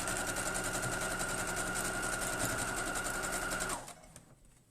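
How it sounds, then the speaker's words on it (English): A sewing machine stitches down a seam on a quilt block with a steady, fast mechanical whir close by, stopping abruptly near the end and leaving a faint hum. "And then I'm going to sew down this one."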